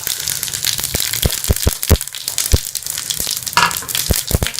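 Cumin seeds and curry leaves fry in hot oil for kadhi pakora, giving a steady crackling sizzle punctuated by sharp, loud pops spaced irregularly throughout, close by with no talking.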